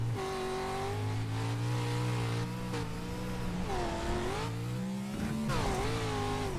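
Race car number 77 in an AMX Series Just a Trim Pro 2 event at Crandon roars across the line, its engine loud and continuous with shifting pitch as it revs and eases through the run, close and alone.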